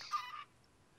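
A chicken in the Better Than Wolves mod of Minecraft gives a single short, clear cluck that stands alone and fades into near silence.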